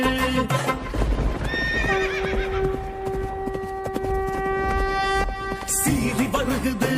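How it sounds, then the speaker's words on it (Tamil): A galloping horse pounds closely with rapid hoofbeats, then gives a loud, drawn-out neigh that rises and holds before trailing off, with galloping resuming afterward. "சீறி வருகுது அந்த குதிரை"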